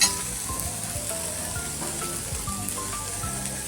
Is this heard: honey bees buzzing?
no